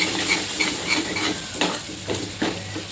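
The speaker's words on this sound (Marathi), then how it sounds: "हे छान एकजीव करून घ्यायचं." Black pea usal, Malvani style, is stirred in a pan with quick rhythmic scrapes about every half second over a gentle sizzle, close and moderately loud, with no voices.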